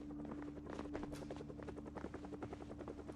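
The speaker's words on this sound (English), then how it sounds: "Then I heard the helicopter approaching, so that was not a good sign." A helicopter approaches in the Project Zomboid video game, a steady rhythmic rotor chop carrying through a low droning hum, fairly distant and continuous with no voices.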